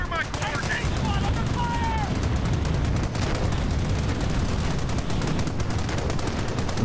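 Continuous gunfire in the World War II strategy game Company of Heroes, dense overlapping rifle and machine-gun bursts forming a loud, steady battle roar throughout.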